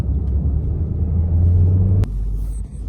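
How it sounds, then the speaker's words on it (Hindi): Road traffic in a lockdown-era town, with many cars on the road. A loud, close engine rumble rolls past and then drops to a lower, steady hum of vehicles. "गाड़ियों का भीड़।"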